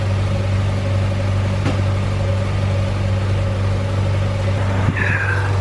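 A car with a swapped Honda B16 engine runs at a low, steady idle around 400 rpm, a loud, close hum with a constant tone, and a brief click near the end.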